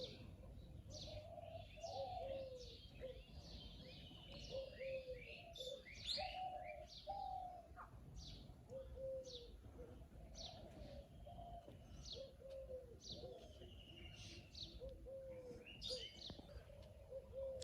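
A dove (ghughu) coos repeatedly in a rural village yard in the early morning, with a rhythmic series of soft calls at mid distance, mixed with other small birds' chirps and low ambient noise.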